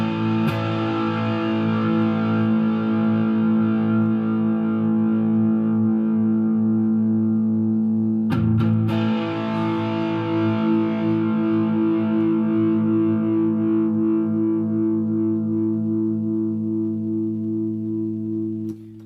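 An electric guitar through a Maxon OD808 overdrive pedal at full gain sustains a heavily distorted chord that rings out for many seconds, with a second strum midway, slowly fading.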